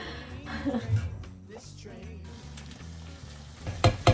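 Pasta and basil pesto are stir-fried in a pan, with close, crackling sizzle and scraping stirring sounds, a few clinks of utensil on pan, and faint laughter-like voice in between.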